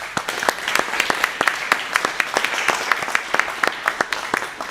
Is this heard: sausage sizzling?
no